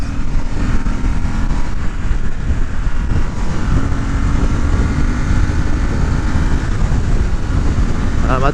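A 2007 Ducati Monster S4RS engine drones steadily while riding, mixed with rushing wind buffeting the microphone, loud and constant throughout.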